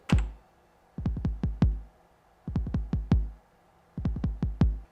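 Roland 909 bass drum pattern with three clusters of deep punchy kicks, four to five hits each, separated by short gaps, loud and alone with no talking.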